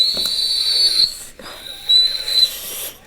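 An attempted whistle by someone who says they cannot whistle: thin, breathy high-pitched tones in two short wavering bursts separated by a gap, with airy hiss and no talk.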